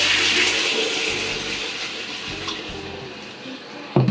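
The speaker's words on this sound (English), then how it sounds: "Amigos, 2 cups of coconut milk." Coconut milk poured into a pot for a vegan pineapple curry, a steady liquid stream running for several seconds and ending in a sharp knock.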